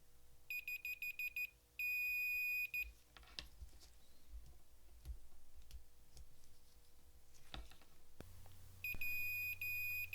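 Multimeter continuity tester beeps on an NES controller in repeated high-pitched bursts, some short and stuttering, one held longer, with faint clicks of probes between them.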